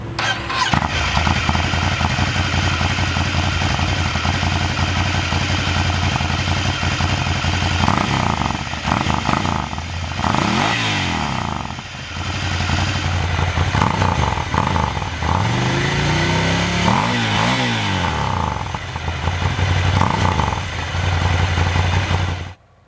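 A Ducati Scrambler's 803cc engine with a Termignoni exhaust starts and idles loudly up close, then revs repeatedly in rising and falling sweeps, with a brief dip before more blips.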